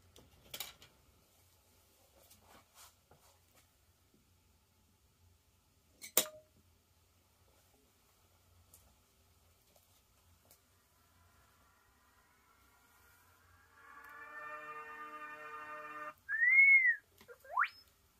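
After a long near-silent stretch with faint scattered clicks, an R2-D2 droid's startup system plays random electronic sounds: a buzzy tonal warble, then a short rising and falling whistle-like beep, fairly close and clear.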